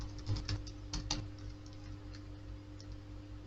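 Quick keystrokes clatter on a computer keyboard in a short burst of close, crisp clicks that thin out into a steady electrical hum.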